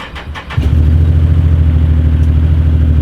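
A Can-Am Maverick MAX 1000R X ds Turbo side-by-side engine cranks and catches after a brief quiet moment, then settles into a loud, steady, deep idle rumble close by.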